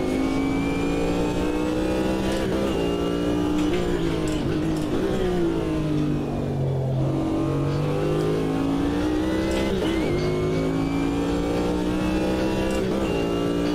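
Chevrolet Corvette GTP race car in the Automobilista 2 sim, its engine revving hard and loud throughout, pitch dropping on downshifts and climbing again through the gears under constant acceleration.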